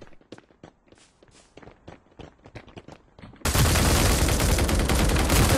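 Gunfire in the mobile shooter Hyper Front Lite: light footsteps patter for a few seconds, then a loud, sustained burst of automatic fire fills the rest of the clip.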